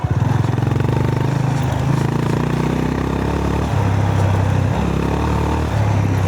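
A 2025 Honda GB 350S ridden off-road, its single-cylinder engine thumping steadily and loud, the pitch rising and dropping as the throttle opens and eases, with clattering over rough ground and no voices.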